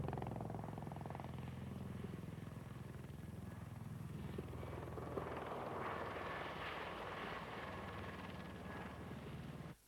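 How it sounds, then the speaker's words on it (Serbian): A V-22 Osprey tiltrotor aircraft built by Bell and Boeing drones with a steady, heavy rotor throb at moderate distance, shifting slightly in tone partway through before cutting off abruptly at the end. "V-22 Osprey Bela i Boeinga, koji je zapravo ni avion ni helikopter, to je konvertoplan"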